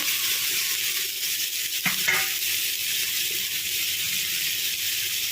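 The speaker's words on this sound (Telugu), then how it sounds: "తోటకూర ఫస్ట్ ఐలో పెట్టుకోవాలి ఐలో పెట్టుకొని ఇలా వేయించుకోవాలి" Amaranth leaves fry in a pan over high heat with a loud, steady hiss and sizzle, broken by one brief scraping clatter of stirring partway through; no one speaks.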